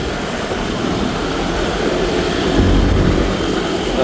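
A race motorbike engine revs hard at a Kamisan street-style race, a steady loud roaring drone with a slight surge in pitch and intensity partway through, heard close and continuous.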